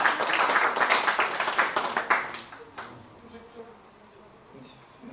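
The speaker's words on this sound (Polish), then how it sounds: "Brawa!" Applause at a pistol shooting match breaks out as a dense, loud burst of clapping, then fades into quiet room noise while a voice talks over it.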